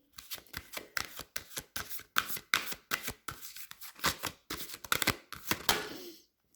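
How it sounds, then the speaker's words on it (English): Rumi oracle cards being shuffled by hand, a close, rapid series of crisp riffling snaps and flicks in an uneven rhythm, ending with a brief slide as a card is drawn, with no talk. "I'm going to pull out also a Rumi card for you from the Alana Fairchild Rumi Oracle."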